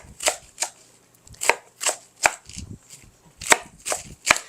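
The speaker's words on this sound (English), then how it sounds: "I'm going to cut this Napa cabbage up." Knife chopping Napa cabbage on a cutting board, a series of about a dozen crisp, close crunching cuts at an irregular, unhurried rhythm with short pauses between.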